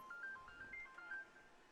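A mobile phone rings faintly in the background at a high school baseball game, with a short melodic ringtone of stepped electronic tones that rise and fall.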